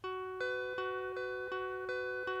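A looped guitar melody run through EQ and saturation plugins repeats a bright plucked phrase about every third of a second, quiet and steady with a soft low hum beneath and no voices.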